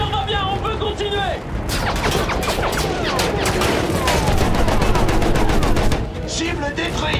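Machine gun fire from the World War I shooter Battlefield 1, with rapid bursts of shots and booming blasts over a battlefield din, while voices shout orders throughout.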